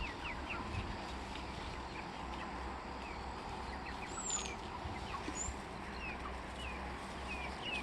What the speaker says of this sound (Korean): 병아리들이 산책 나오네